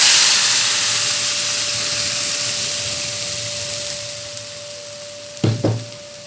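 Dal tipped into a pan of cooked onions sizzles steadily as part of a Tamil-style keerai paruppu kadaiyal, with a low hum underneath and a brief clatter of stirring near the end.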